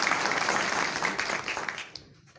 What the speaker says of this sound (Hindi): तो उनके लिए फिर से जोरदार ताली चाहूंगा।